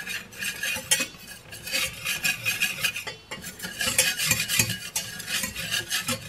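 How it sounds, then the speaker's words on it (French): Kimchi stirred gently in a pan over low heat, a steady scraping and clinking of utensil against the pan with soft sizzling underneath, continuous and close with no talking. "on remue"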